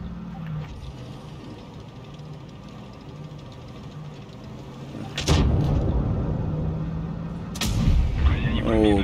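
Two heavy tank cannon shots in World of Tanks Blitz boom out over steady engine rumble and battle noise, one around the middle and another near the end, each a loud broadband blast with a trailing echo.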